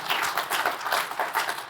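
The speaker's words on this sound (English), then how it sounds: "Give them a round of applause." A live audience at a SXSW podcast taping breaks into applause, a dense, steady patter of many hands clapping at moderate loudness for nearly two seconds, with no talking over it.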